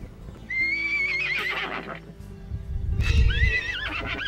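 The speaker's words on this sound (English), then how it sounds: "These little stud colts just discovered some mares across from them." Young wild stud colts whinny loudly at mares across a ranch alleyway, with a high wavering neigh near the start and another near the end, rumbling hoof movement and low snorting in between.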